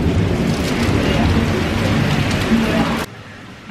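Steady, dense rain hissing loudly in Bali, with a brief low rumble under it, then the downpour drops to a quieter patter near the end.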